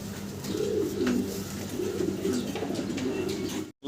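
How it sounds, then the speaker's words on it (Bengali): A pair of yellow fantail pigeons at a pigeon seller's coo softly in repeated low rolling phrases amid a dense background of other birds, fairly quiet overall and cut off abruptly at the end. "একজোড়া ফ্যান্টাল বা লাক্ষা কবুতর দেখতে পারতেছি"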